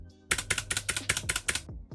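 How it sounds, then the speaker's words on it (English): Rapid typing on a Gamemax Strike RGB mechanical keyboard with blue switches, a steady run of sharp clicky keystrokes that bottom out hard, close and loud, with space bar sounds and a brief pause near the end. "You're going to hear that bottom out sound, obviously, and the space bar sounds."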